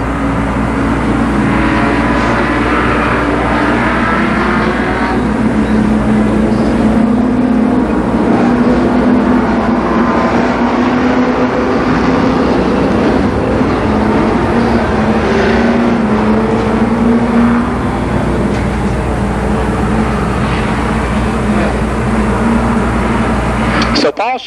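Mini stock race cars roar around the Columbus Motor Speedway, a steady drone of engines that rises and falls without a break, heard beneath continuous race commentary.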